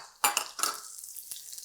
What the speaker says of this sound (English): And we're going to get a bit of a saute sizzle on there.